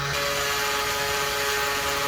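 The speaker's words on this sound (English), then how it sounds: "Then I'm going to use my power sander here and sand down the edges of it" A power sander whirs steadily at close range sanding plastic edges, a constant buzzing hum that stops abruptly at the end.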